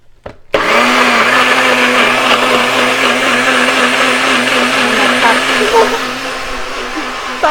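A blender whirs loudly and steadily while blending a spinach and almond butter smoothie, starting abruptly after a brief pause and holding a constant high-pitched motor drone that eases slightly toward the end.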